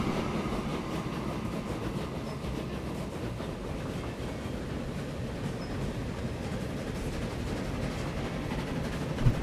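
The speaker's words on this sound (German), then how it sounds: "Jetzt muss ich auf den Güterzug warten." Freight train in the railway video game Transport Fever, a steady loud rumbling rattle of wagons rolling past that holds evenly throughout.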